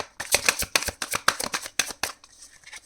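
A deck of tarot cards being shuffled close up, a quick run of crisp riffling flutters in several bursts, with no talking.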